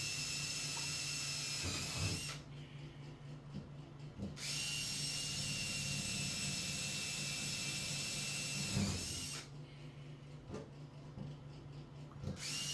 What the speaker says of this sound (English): I'll drill a hole to inject more foam underneath the pan